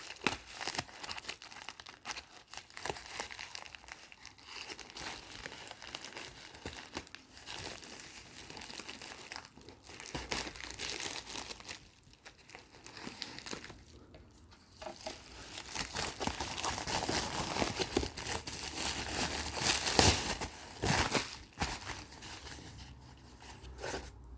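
Packaging on a parcel holding an HRD-757 radio crinkles and rustles softly while it is opened, with uneven bursts of plastic crackle and tearing that build slightly toward the end, close by and quiet, and no speech.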